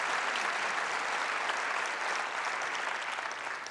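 Steady audience applause fills the room at a district training event, dense and continuous hand clapping from a sizable crowd, heard alone without speech for a few seconds.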